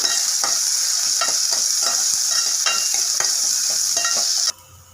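Ginger-garlic paste and finely chopped onion fry in a pan with a steady, bright sizzle, punctuated by regular scrapes and knocks of a stirring spoon, continuous and close until the sizzle drops away abruptly near the end.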